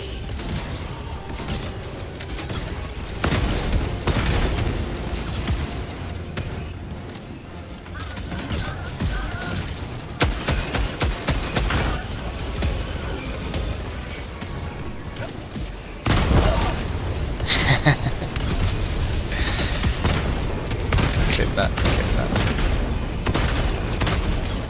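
Autocannon fire and explosions in Helldivers 2 boom and crack repeatedly in dense bursts, loud and close, with mechanical clatter between shots and a voice talking over parts of the barrage.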